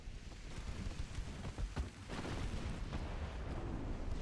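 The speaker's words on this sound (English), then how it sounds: "We just took torpedoes." Heavy underwater torpedo impacts strike a warship amid a chaotic naval battle in a World War era naval strategy game, rumbling low booms and broadband blasts rolling loudly over several seconds.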